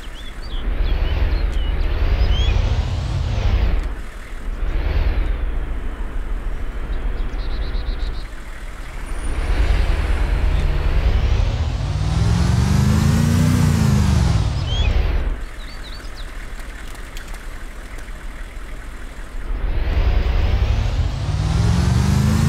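A Humvee engine in the video game DayZ Epoch drives close and loud, revving up and easing off in repeated waves as it accelerates and shifts, with brief dips in between.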